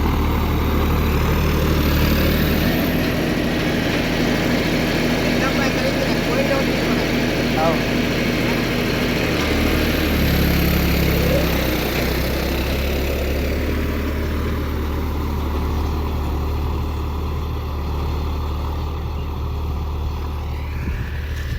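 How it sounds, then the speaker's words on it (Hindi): A John Deere Gear Pro series tractor's engine runs steadily throughout, a loud continuous low drone with a constant engine hum, close by and unbroken. "तो अभी इस कंडीशन में तो अच्छा चल रहा है ट्रैक्टर।"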